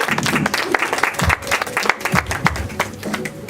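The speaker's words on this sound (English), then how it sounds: "Let's give him a clap" An audience at a fashion show's grand opening claps for a designer as he is called out. The crowd sounds close and lively, with sharp individual claps standing out in an uneven patter.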